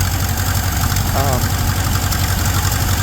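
Old Ford Model A engine, long unused, idling roughly with a steady low rumble and uneven knocking pulses, loud and continuous throughout.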